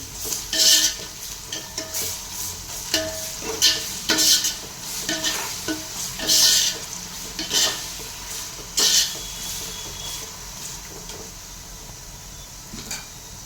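Ginger garlic paste frying with browned onions for chicken pulao is stirred in a pan, repeated sharp scraping strokes over a steady sizzle, close by.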